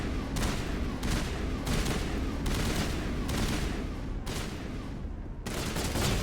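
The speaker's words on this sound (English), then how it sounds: "Shooting at nobody." Continuous dense gunfire in the video game Mass Effect, steady overlapping shots in repeated surges with brief lulls, no voices.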